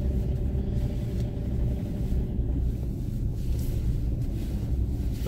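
Car being driven slowly to park on a street in Japan: a steady, close low rumble of engine and tyres inside the cabin, with no talk.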